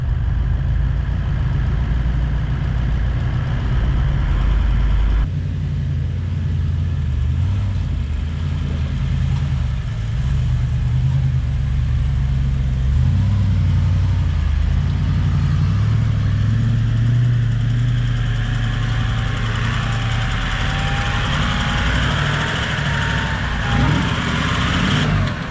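A twin-locked Toyota 100 series 4WD grinds slowly over wombat holes on a rough bush track, its engine droning low and steady at close range for the whole stretch, with a faint whine rising near the end.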